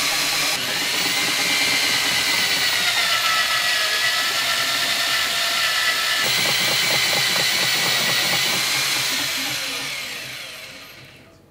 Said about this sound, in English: Start the machine by pressing the white button, bringing up the pressure using the lever.